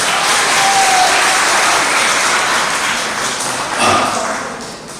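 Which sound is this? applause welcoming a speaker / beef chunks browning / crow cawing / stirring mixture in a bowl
applause welcoming a speaker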